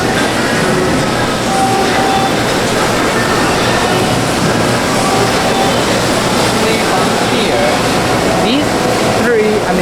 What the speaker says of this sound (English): Four big machines for the drying.